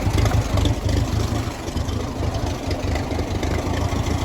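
A Ferguson TE20 tractor engine ticks over at idle close by, a steady low throbbing chug with faint mechanical rattle, loud and continuous throughout.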